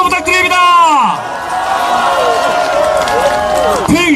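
A loud crowd cheers and shouts continuously at a Korean election campaign rally in Sinchon, Seodaemun-gu, Seoul, with a dense, sustained roar of voices filling the space throughout.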